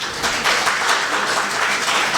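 An audience at a Hindi poetry recital (kavi sammelan) bursts into dense, steady applause, close and loud, lasting a couple of seconds.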